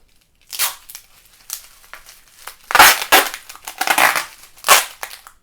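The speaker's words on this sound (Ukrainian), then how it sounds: "і скотчем перемотали" Adhesive packing tape is pulled and wound around a parcel being wrapped for shipping, giving loud bursts of ripping and crinkling separated by short pauses.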